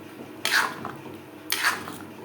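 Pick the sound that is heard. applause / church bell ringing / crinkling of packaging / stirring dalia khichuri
stirring dalia khichuri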